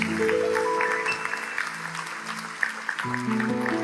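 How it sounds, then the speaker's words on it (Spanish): Church congregation applauding during a Christian sermon, a broad wash of clapping at moderate distance, heard beneath sustained worship music with keyboard tones. "Vamos a darle un aplauso al Rey de Reyes."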